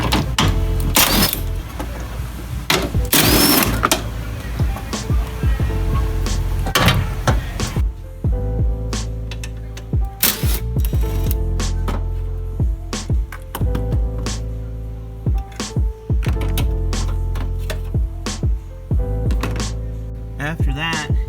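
A ratchet works on 13 mm bolts holding the battery of a 2018 Chevrolet Silverado, giving quick bursts of sharp metallic clicks and knocks while someone talks between them.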